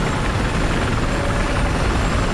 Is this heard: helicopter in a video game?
yes